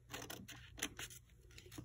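Scissors snipping paper tabs, a quick series of soft, close crisp cuts in a quiet room with no talking.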